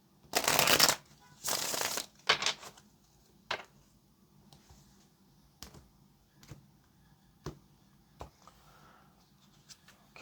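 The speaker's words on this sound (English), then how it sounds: "this is our last shuffle" A deck of tarot cards is shuffled in a few quick riffling bursts close up, followed by scattered soft taps and clicks as the cards are handled in a quiet room.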